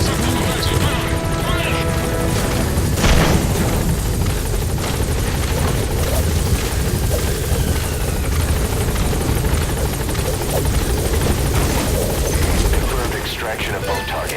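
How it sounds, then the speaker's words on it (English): Support helicopter arriving during a combat mission in Metal Gear Solid V: The Phantom Pain, a loud steady rotor roar filling the whole scene amid gunfire and explosions, with game voice lines over it. "Support helicopter has arrived."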